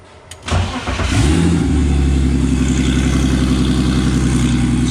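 A stripped-down BMW Z car, its wiring harness partly removed, cranks briefly and catches, then settles into a loud, steady close-up idle with a throbbing rhythmic rumble.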